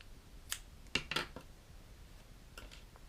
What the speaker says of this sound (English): And I'm going to cut that yarn.